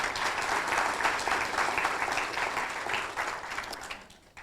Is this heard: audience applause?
yes